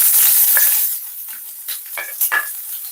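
Onion hits a hot pan and sizzles loudly while being cooked for a curry fish dish, then the frying fades under a few scraping stirs and utensil clinks near the pan.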